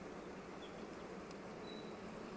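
Honey bees at the hive: a faint, even buzzing drone holds steady throughout, with no voices.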